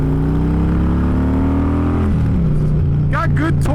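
Harley-Davidson Electra Glide engine while riding, a loud close low rumble that holds steady then drops as the rider shifts, with wind noise and a voice speaking near the end.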